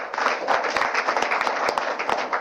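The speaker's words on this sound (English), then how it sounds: "Another round of applause for him." Audience applause at a political press event after an election-related speech, dense and steady clapping from a room of people lasting the whole moment without speech.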